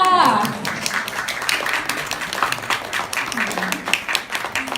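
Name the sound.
audience applause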